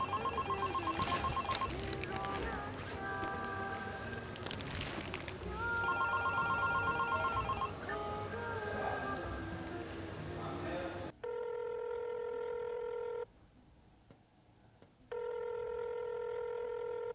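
A telephone rings in a Pakistani drama scene, first under dialogue and background music, then alone as a steady electronic ring in two long bursts with a gap between them.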